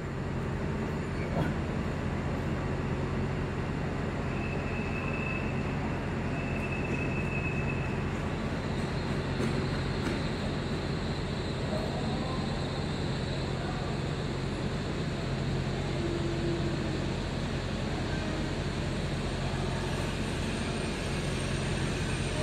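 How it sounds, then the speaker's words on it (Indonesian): A Whoosh high-speed train rumbles steadily into Padalarang station, with a continuous low roar and faint high whining tones from the wheels, lasting throughout. "kereta cepat dengan nomor G1132 telah tiba di stasiun Padalarang"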